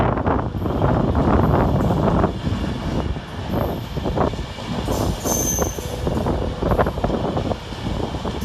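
Class 319 electric unit 319117 arriving at Stafford railway station: a continuous loud rumble of wheels and carriages passing close by, with intermittent high squeals from the wheels.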